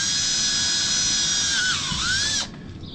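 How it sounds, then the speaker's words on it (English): A high-pitched power drill whines steadily, its pitch dipping as it bites into material, then winds down and stops. "I'm going to drill a hole in both of these."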